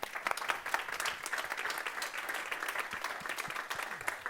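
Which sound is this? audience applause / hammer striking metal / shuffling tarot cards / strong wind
audience applause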